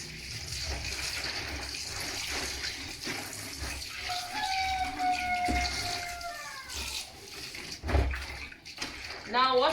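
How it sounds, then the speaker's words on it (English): Meat for kwacoco and banga soup is rinsed under a tap in a kitchen sink, with running water splashing steadily and loudly throughout and a few clatters near the end. "I'm going to wash my meat."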